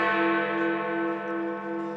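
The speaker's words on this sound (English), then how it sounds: "8 o'clock and Big Ben's final chimes." London's Big Ben clock bell tolling at eight o'clock: a single deep, sustained chime with a long, rich ringing decay, heard alone and fairly close.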